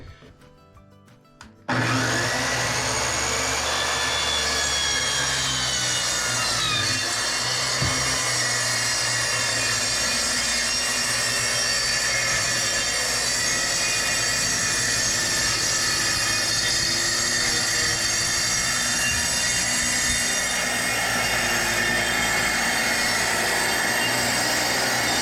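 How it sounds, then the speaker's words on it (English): A circular saw, its blade set just over three-quarters of an inch deep, cuts through the plywood floor of a boat house. It starts abruptly after a brief quiet and keeps up a loud, close, continuous whining roar for over twenty seconds, with no talk. "I have my saw here, and the blade is set to just a little bit more than 3/4"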